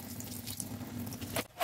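Tap water running into a bathroom sink with a clogged drain, a soft steady trickle and splash that continues quietly before a brief louder clatter near the end.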